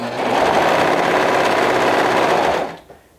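A sewing machine stitches a flutter wrap garment, its steady, loud mechanical whir running continuously for about two and a half seconds before stopping abruptly, followed by a small click.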